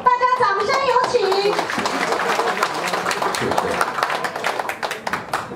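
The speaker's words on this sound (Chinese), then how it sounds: "大家掌声有请" Audience applause at a Chinese community meeting in New York, a dense patter of clapping hands that follows an announcer's voice at the start and carries on steadily to the end.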